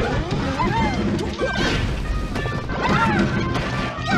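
Down smash attacks by Peach in a Super Smash Bros. Melee doubles tournament match, heard as repeated crashing hits and game effects amid music and crowd noise, with a commentator talking over them.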